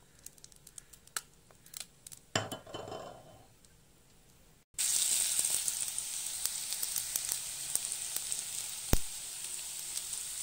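Vegetables drop into hot oil left from frying rui fish, setting off a sudden loud, steady sizzle after a few seconds of quieter pan rustling, continuing close and crackly to the end.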